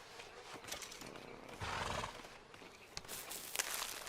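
A horse wearing a light around its neck, heard outdoors at close range, giving a short snort or whinny-like burst amid faint hoof clatter and rustling, fairly quiet overall.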